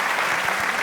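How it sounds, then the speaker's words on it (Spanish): Applause from a conference audience fills the whole moment, a dense steady clapping with no pauses, close and fairly loud. "Por favor, un caluroso aplauso."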